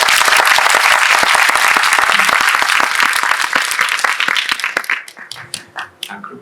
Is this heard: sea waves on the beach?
no